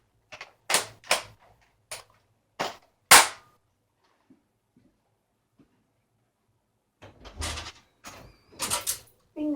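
A Nerf First Order Stormtrooper blaster is loaded with a run of sharp mechanical clacks and clicks, close and loud, separated by a quiet stretch in the middle.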